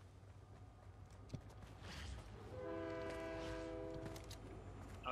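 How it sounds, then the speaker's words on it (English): A video game train rolls past with a sustained multi-tone horn sounding for a couple of seconds over steady rumbling, fairly close and loud, without any talk. "Are we gonna get the train?"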